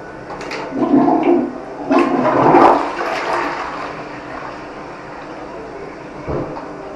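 A Roca Victoria toilet with a Geberit cistern flushes loudly and close, with a rushing gush of water in a couple of surges that settles into a fading trickle and refill hiss.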